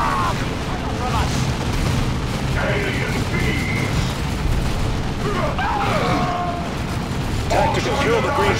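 Grenade explosions in the video game Dawn of War 2, rumbling booms under a dense, continuous battle mix with gunfire and shouted unit voice lines.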